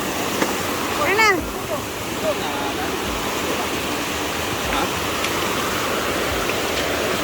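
Strong river water rushes loudly and steadily in a continuous broadband roar, with a brief bird-like chirp near the start.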